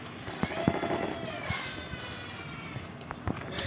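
Mini Uzi fired in a mobile shooter game, heard as scattered sharp bursts and single shots of moderate loudness over a busy background of game ambience.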